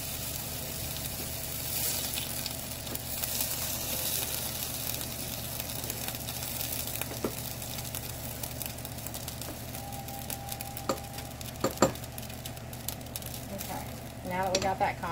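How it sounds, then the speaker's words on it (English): A pot of macaroni boiling over onto a hot stovetop, giving off a continuous soft sizzle and hiss with scattered crackles and sharper pops near the end, fairly quiet and close. "Now I'm going to go ahead and let my macaroni boil over."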